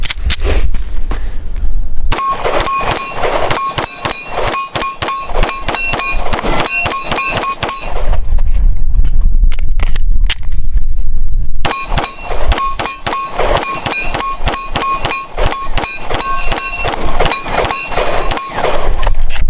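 A Ruger RXM 9mm pistol is rapid-fired at a target, loud sharp shots in fast strings with a short pause in the middle, each crack ringing out close by.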